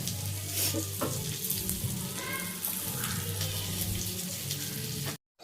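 Andhra-style chanduva (pomfret) fish curry simmering in a pan over a medium flame, a steady bubbling sizzle with faint stirring, close and continuous before cutting out briefly near the end.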